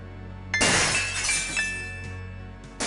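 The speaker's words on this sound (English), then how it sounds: "Gabriel hears the faint sound of breaking glass." Glass breaking in the adventure game Gabriel Knight: Sins of the Fathers, a loud sudden shatter followed by a second of tinkling shards settling, then a fresh crash starting at the very end.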